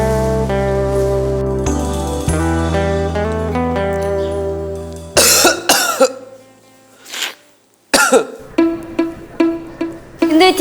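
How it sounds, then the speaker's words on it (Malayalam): Several heavy, harsh coughs come in loud close bursts, some run together in fits, after a few seconds of music fade out, with a short quiet gap between fits. "ഭയങ്കര ചുമ, എന്താ അറിയില്ല"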